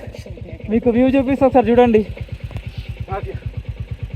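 A motorcycle engine idles with a steady, close-up rhythmic chug, paused on a cold mountain roadside amid snowy hills during a long-distance ride, while someone talks over it.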